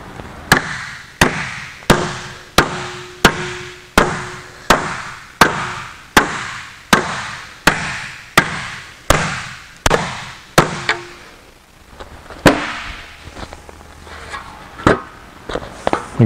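Hammer blows shape an aluminum bonnet panel for a Jaguar E-Type: loud, ringing strikes land in a regular rhythm about every half second, then slow to a few scattered hits.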